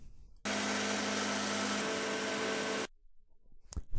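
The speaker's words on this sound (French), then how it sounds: "Fraise à grosses dents pour le chanfrein qui va suivre" A coarse-toothed rotary burr cutting a chamfer into an aluminium wheel, a loud, steady high whine that holds for about two and a half seconds, then cuts off abruptly, followed by faint handling clicks.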